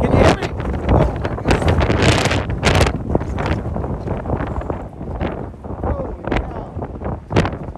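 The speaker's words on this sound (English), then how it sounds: "Look at that wind! Look at that wind!" Strong gusts buffet the microphone outdoors on a windy day, broadband rumbling bursts rising and falling in waves, with people talking loudly over it.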